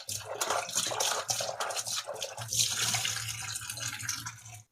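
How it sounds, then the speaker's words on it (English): Running water splashes and gushes steadily as an electric multi-function pot kettle is washed with a nylon scrub, with continuous close scrubbing and rinsing that stops abruptly at the end. "Now I will wash this kettle with a mild soap and please try to use a nylon scrub."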